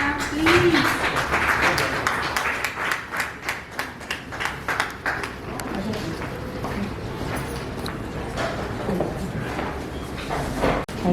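Audience applause at an Inner Wheel club award ceremony in Delhi, a steady spread of clapping lasting several seconds with a voice speaking over it and scattered louder claps near the end.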